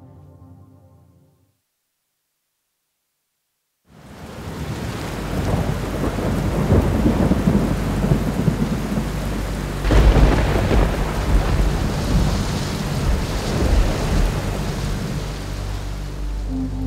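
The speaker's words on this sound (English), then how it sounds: "We woke up to uh, rain in the morning. Pretty much rained all night. Storm front rolled in." Heavy rain pours steadily with deep rolling thunder rumbling underneath, swelling louder near the middle, after a short quiet stretch at the start.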